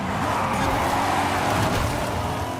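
A steady, loud roar of racing car engines in a Forza Horizon game, dense and continuous with no pauses.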